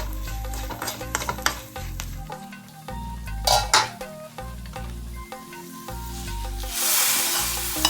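Sambar spice mix roasting in a pan, sizzling steadily while a utensil stirs and scrapes against the metal with repeated clinks and scrapes, loud and close, no voices.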